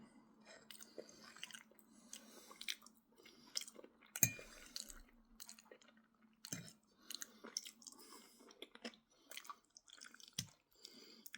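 Close-up chewing of cooked eggs with garlic, onion and butter containing bits of crunchy eggshell, irregular wet mouth sounds with occasional sharp crunches, quiet and intimate.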